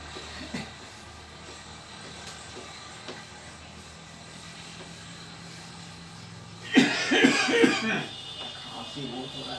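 A person who says they are unwell coughs in a short loud burst of several harsh coughs, close to the microphone, after a stretch of quiet room noise.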